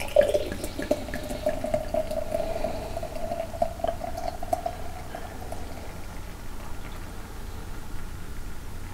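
Mikkeller Monks Brew dark ale poured aggressively down the center of a glass, a steady liquid gurgle that gives way to a soft, continuous fizz of carbonation, close and without talk.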